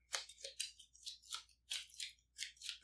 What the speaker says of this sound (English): So we will shuffle up our lobby doorways here.